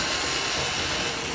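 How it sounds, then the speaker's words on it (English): A ratchet wrench backs out a 5/16 screw from the front panel of a Whirlpool gas dryer, giving a steady, rapid, close-up clicking that runs alone throughout. "And remove that 5/16 screw also."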